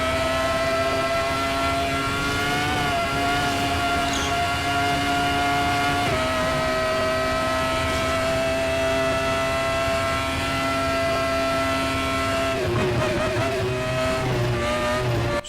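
A Formula One car screams around the Daytona Roval in the RaceRoom racing game, its high, steady engine whine held close and loud, dipping briefly with gear shifts and shifting pitch near the end.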